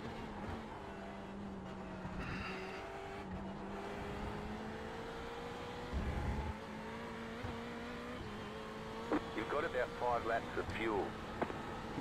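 Engines of GT3 race cars in a racing video game at Road Atlanta, a steady drone with pitch shifting as gears change and a brief burst of other cars near the end, with someone talking over it.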